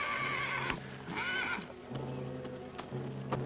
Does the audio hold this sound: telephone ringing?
no